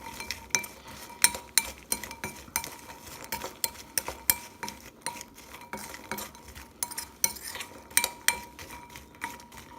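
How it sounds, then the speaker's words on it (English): A spoon stirs roasted chickpeas seasoned with chilies and mixed spice, giving a quick run of sharp metallic clinks and scrapes against the dish. The taps are close and irregular but keep a steady, busy rhythm. "And then again, give them a stir around."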